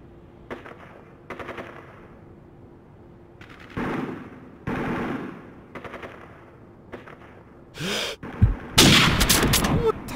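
Bursts of rapid gunfire in Call of Duty 4: Modern Warfare come in short volleys separated by pauses, growing louder and denser toward the end, with no speech.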